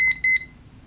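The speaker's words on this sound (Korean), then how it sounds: "이렇게 타이머를 20분 이렇게 맞춰주면 띠띠띠띠 해서 20분 딱" A cheap digital timer clock from Amazon beeping when a 20-minute countdown ends, two short, shrill, high-pitched electronic beeps close up in a quiet room.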